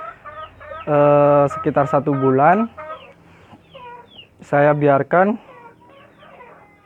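Chickens in a coop cluck and squawk in two loud bursts up close, where leaf litter is composted with their droppings, while someone speaks calmly between and beneath the calls.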